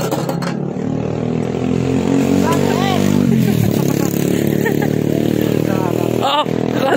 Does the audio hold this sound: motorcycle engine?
yes